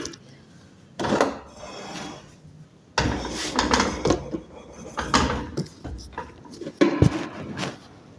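A couple of dirty dishes rattle inside a basket as it is carried. Close, irregular clinks and knocks come in bursts over several seconds, with quieter handling noise between them.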